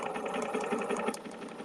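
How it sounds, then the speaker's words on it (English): A sewing machine stitches across fabric with a steady, close mechanical whir and a fine rapid needle patter, continuous and moderately quiet throughout. "So I'm going to stitch across"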